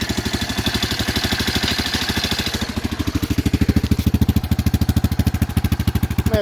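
A four-wheeler ATV engine runs in low range while hooked up to an old camper frame, chugging with a close, rapid, even pulse that grows louder and punchier partway through as the throttle opens.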